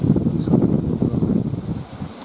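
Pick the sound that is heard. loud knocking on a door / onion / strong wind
strong wind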